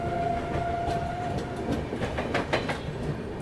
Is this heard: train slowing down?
yes